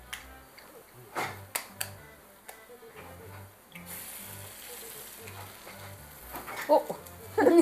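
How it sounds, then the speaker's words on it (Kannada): An egg frying in a small amount of oil in a pan, heard as a soft, steady sizzle with scattered sharp ticks and pops that grow louder toward the end. "ಇವಾಗ ಈ ಸೈಡಲ್ಲಿ ಮೊಟ್ಟೆ ಹಾಕ್ತಿದ್ದೀನಿ."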